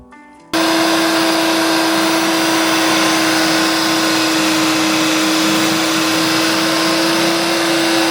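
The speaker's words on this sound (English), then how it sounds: "Final meal of the day, Ninja Creamy. Not only the best culinary invention of our generation, but also the loudest." A Ninja Creami ice cream maker switches on after a brief quiet moment and runs loud and steady, a harsh whirring motor drone with a constant high whine that continues to the end.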